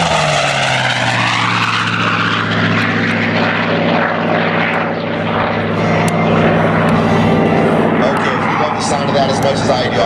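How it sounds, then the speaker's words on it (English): Air Race Argonaut, a race airplane, makes a low pass at an airshow. Its loud propeller engine drone rises and then holds a steady roar while an announcer talks over it. "The last pass, Mr. Corey Wells in Air Race Argonaut"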